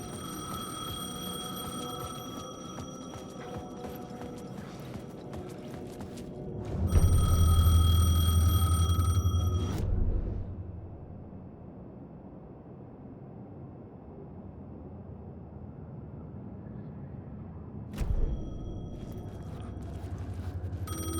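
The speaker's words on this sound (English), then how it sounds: "The payphone was ringing." A payphone rings in the video game Alan Wake 2, with loud repeated bell bursts amid a tense ambient score and a sudden quiet stretch before another burst.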